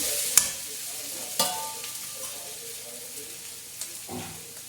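Mashed potato stuffing goes into a hot pan and is stirred, a light sizzle marked by a few distinct clacks and scrapes of the spoon against the pan, fairly close and quiet.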